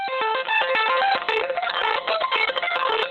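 A punchy rhythmic loop crunched by heavy bit-crushing, gritty and distorted with a harsh digital edge, loud and unbroken by talk.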